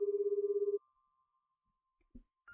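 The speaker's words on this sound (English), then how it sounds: "It rings and rings, but no one picks up" A telephone rings unanswered in the game Café Stella, one burst of rapid electronic trilling that cuts off abruptly and leaves near silence, with a brief faint sound at the end.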